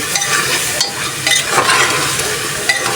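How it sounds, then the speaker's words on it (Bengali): Meat fries in oil with salt, onion, garlic and cumin while it is stirred vigorously in a pan. A loud, close sizzle runs throughout, punctuated by repeated scraping strokes of the spoon, with no talking. "মাংসটা আমি কষাই নিচ্ছি সুন্দর করে"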